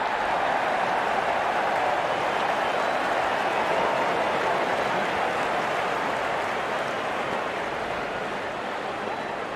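A stadium crowd cheering in the video game Real Cricket during a T20 World Cup match between India and the Netherlands, a dense, steady roar of applause and cheers, loud and continuous throughout.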